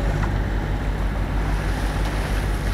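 A sailboat's engine runs at 1800 rpm with a small jib set in light wind, a steady low drone close by, half buried under rushing wind and water noise.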